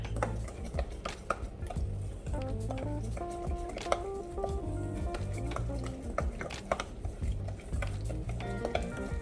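Jambalaya ingredients being stirred in a pot, with scraping and clinking of a utensil against cookware under steady background music; no talking.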